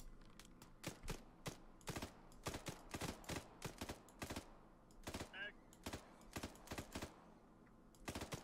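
Sharp, close gunfire in ARMA 3 cracks out in quick irregular bursts, roughly two dozen shots with brief gaps between volleys, over a low ambient rumble.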